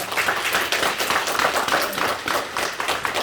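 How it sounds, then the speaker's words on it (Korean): Applause from an audience at a special lecture in an auditorium, dense, continuous clapping of a sizeable crowd, fairly close and even throughout. "박수 한번 다시 부탁드립니다"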